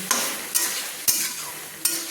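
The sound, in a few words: spices being stir-fried in a pan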